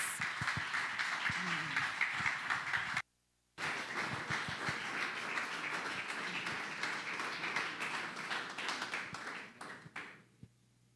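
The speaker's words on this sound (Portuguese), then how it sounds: "aplauda ao Senhor Jesus" A church congregation at a service claps for Jesus, a continuous crowd of hands, briefly cut out once, with voices underneath, before it tapers off near the end.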